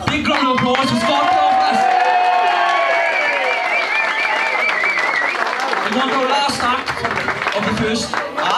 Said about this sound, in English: Big round of applause for Scott